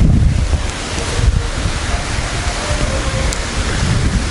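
Gusty wind buffets the microphone over the steady wash of Black Sea waves at Yevpatoria in autumn, a loud, rough roar with no voices.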